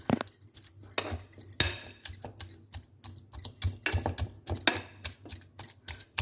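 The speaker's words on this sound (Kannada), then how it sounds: "ಈ ಥರ ನೀಟಾಗಿ ಮ್ಯಾಶ್ ಮಾಡ್ಕೋಬೇಕು." A masher works through soft cooked pumpkin in a bowl, giving a run of irregular close squelching taps and knocks, some louder thumps among quicker light ones, with no talking.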